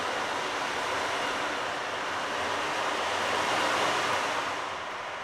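An ocean drum, a frame drum filled with rolling beads, is tilted to mimic waves, producing a continuous loud hissing wash that swells and slowly recedes like surf.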